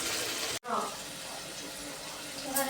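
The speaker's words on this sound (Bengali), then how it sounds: "চলো আমি মাংসটা এখনো ভালো করে কষাই" Chicken meat sautéed in hot oil sizzles with a steady, fairly quiet hiss that briefly cuts out and then carries on.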